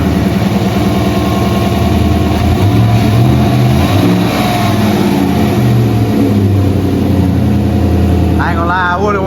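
A car engine idles and revs steadily up close, with a rough low rumble running throughout and a rising whine near the end, all under continuous engine noise.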